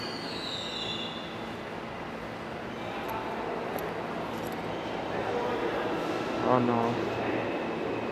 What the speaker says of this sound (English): This is subway.